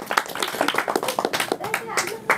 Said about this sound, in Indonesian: tepuk tangan teman-teman boleh.